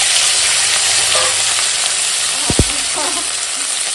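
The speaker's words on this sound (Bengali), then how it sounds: "দেখো কড়াই তেল গরম হয়ে গেছে, আর দিয়ে দিয়েছি কাঁচা লঙ্কা শুকনো লঙ্কা ফোড়নে। এখন দিয়ে দেব এই যে কেটে রাখা ডাঁটা" Chopped Malabar spinach stalks hit hot oil in a wok already tempered with green and dried chillies. A loud, dense, continuous sizzle follows, with a couple of quick knocks of a stirring spoon partway through.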